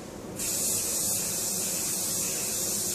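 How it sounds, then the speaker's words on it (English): A steady, loud hiss of a can of cold galvanizing spray being sprayed onto the backs of welds begins after a brief moment and continues without a break. "Put a little bit of cold galvanizing spray just around the back of the welds."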